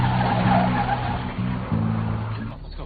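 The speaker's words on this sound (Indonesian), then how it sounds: "tawaran dari Anson malah tancap gas menghindari semua petugas yang ada di sana." An ambulance used in a getaway in a film scene speeds off loudly with squealing tires and a roaring engine, the skid sustained for a few seconds before fading.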